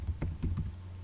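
A few quick keystrokes on a computer keyboard, three or four close clicks in about a second over a low background hum.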